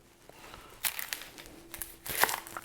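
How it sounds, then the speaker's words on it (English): Papery outer skin being peeled off a halved onion in a kitchen while preparing a bacon burger, heard as soft, close crinkles and two louder crackling bursts, with no talk. "Peel the paper off of it."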